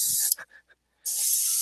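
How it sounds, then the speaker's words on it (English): Gray primer paint sprayed from an aerosol can, heard as two close, loud hissing bursts with a short pause between them and faint rattling in the gap. "and I'm gonna spray this gray down."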